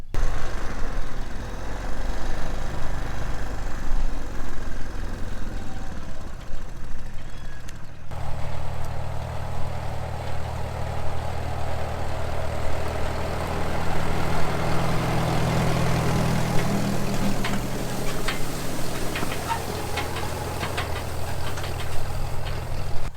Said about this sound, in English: it just amazes me how well that almost 80-year-old tractor runs